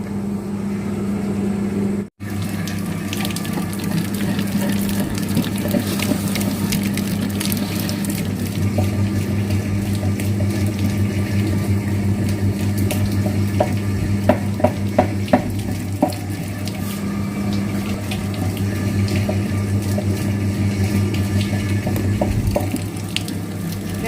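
Water sloshes and splashes continuously while a wet grinder is rinsed out, with a steady low hum beneath and a few sharper clinks near the middle.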